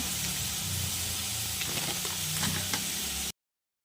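Pumpkin flowers frying in a pan for a traditional Indian palya: a steady close sizzle with soft stirring scrapes and light taps, continuous for about three seconds before cutting off.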